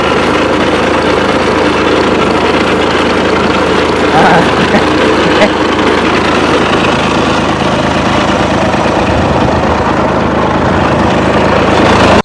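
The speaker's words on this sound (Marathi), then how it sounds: "तो आता ट्रॅक्टर लावला आहे." A tractor engine running loud and steady on a farm where guava trees are being drenched, a continuous close rumble that fills the whole stretch with no break.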